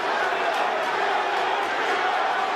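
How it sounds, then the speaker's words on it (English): Dense, steady crowd murmur fills a boxing arena during the Teofimo Lopez versus George Kambosos Jr. title fight, a continuous loud buzz with no distinct individual voices. "The crowd buzzing, they sense something."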